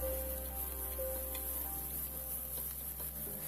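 Sliced onions sauté in a pan for a potato curry with a soft, steady sizzle under a constant low electrical hum. The sound is close but quiet, and no one speaks.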